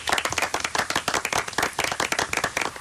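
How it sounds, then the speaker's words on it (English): Brisk, close applause from a small audience, many hands clapping rapidly and unevenly for a few seconds with no voices. "But 2 reasons for a round of applause for Caroline."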